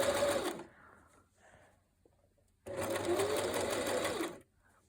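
Hobbycraft sewing machine stitching fabric around a corner, running in two loud steady bursts with a quiet pause between, close up, with people talking softly in the gap.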